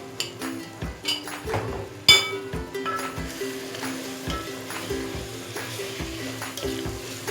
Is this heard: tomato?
yes